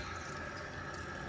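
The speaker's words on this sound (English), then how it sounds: "That's the bathroom sink water pressure." Water runs from an RV bathroom sink faucet as air is purged from the lines, a steady close hiss and rush with no talking.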